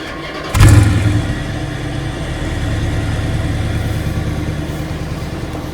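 A Dodge Charger R/T V8 fires up by remote start with a sudden loud catch and rev, then settles into a low, steady, fairly quiet idle rumble.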